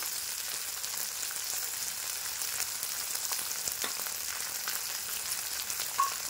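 Chopped onion sizzles steadily in hot oil in a pan, a continuous close frying hiss with small crackles throughout and a brief brighter pop near the end.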